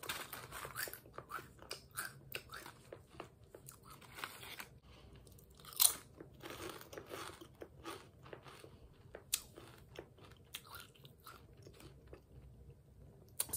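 Crunching and chewing of Walkers salt and vinegar crisps, close and quiet, with a steady run of crisp bites and munches and no talking.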